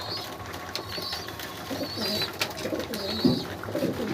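Pigeons coo repeatedly in soft, throaty bursts at night while feeding in their egg-laying coop, fairly close, over a busy background of faint rustling and pecking.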